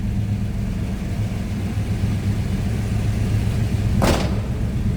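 A 1971 Dodge Charger's 383 Magnum V8 idles around 1,000 RPM with a steady, low rumble, close by, broken near the end by a brief higher whoosh.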